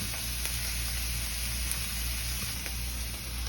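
Butter sizzling in a hot pan while pan-searing Cajun-style tilapia, a steady close hiss with faint ticks of stirring, continuous and without speech.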